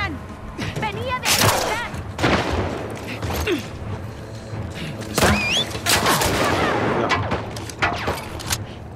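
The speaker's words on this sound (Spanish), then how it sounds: "¡Nos disparan!" Gunfire from The Last of Us Part II video game crackles in repeated close bursts and booming shots, with in-game chatter and shouting mixed among the loud exchange.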